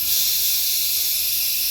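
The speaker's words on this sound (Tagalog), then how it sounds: "Vacuum check sa throttle body." Steady high-pitched vacuum hiss drawn at the throttle body of a 2004 Nissan Patrol with a 3.0 Di ZD30 engine suffering low power, continuous and loud up close with no talking.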